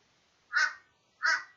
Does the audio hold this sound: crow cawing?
yes